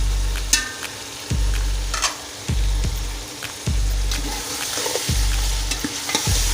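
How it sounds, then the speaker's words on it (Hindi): Cut potatoes frying in a pot for chicken biryani while being stirred: loud sizzling with a regular scraping stir roughly every second, close up and with no voices. "अब इसमें आलू 4 अदद जो काटे थे उनको डाल देंगे।"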